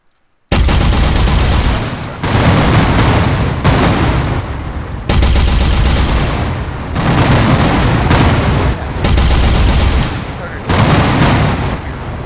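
Loud, sustained turret fire from an Unreal Engine 4 game, dense booming bursts in several long runs separated by brief pauses, filling the whole clip without talk.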